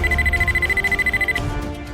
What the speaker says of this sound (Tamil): திடீர்னு அலாரம் அடிக்குது